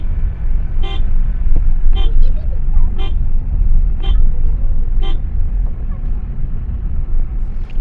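A car moving slowly along a narrow road, its engine rumbling steadily up close while a horn toots in short, evenly spaced beeps about once a second.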